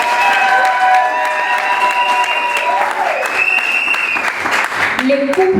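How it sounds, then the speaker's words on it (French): Wedding guests at a combined civil and religious ceremony applaud the pre-married couples being honoured, a loud, steady burst of clapping with crowd murmur and some tonal sound mixed in throughout. "Est-ce qu'on peut applaudir?"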